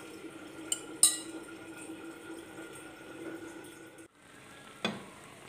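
Apple compote starting to boil in a pot, a soft steady bubbling simmer with a few sharp clicks and clinks over it.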